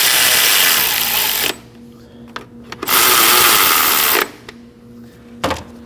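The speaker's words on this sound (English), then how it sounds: "Now we can go ahead and get these 3 10mm bolts snug." A ratchet or power driver snugs three 10mm bolts on a 2011-2016 Kia Optima engine during knock sensor replacement, heard as two sustained loud whirring bursts with brief clicks between them, close up.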